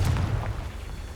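A Confringo spell explosion in Hogwarts Legacy, a deep muffled boom that rumbles and fades over about a second.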